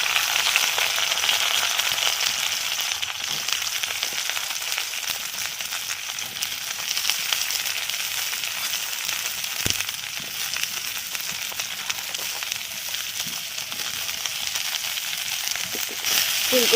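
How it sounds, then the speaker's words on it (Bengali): Cauliflower pieces fry in hot white oil in a wok, giving a steady, close hiss and sizzle with fine crackles throughout, with no voices over it. "ফুলকপিগুলো ভাজা হচ্ছে"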